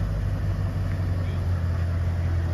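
A 2010 Ford Mustang GT rumbles with a steady, low engine drone as it starts to pull away, fairly close, with a voice talking over it.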